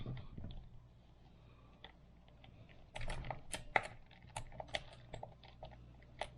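Small screws removed from a Traxxas Slash 4x4 RC car, heard as a quiet rustling that gives way to a flurry of light metallic ticks and clicks, close up over a low background hum.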